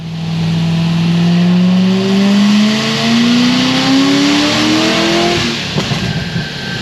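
A Chevrolet Corvette C6 Z06 with a stage 5 engine build revs hard on a dyno, its loud, close engine note climbing steadily in pitch for several seconds before cutting off abruptly.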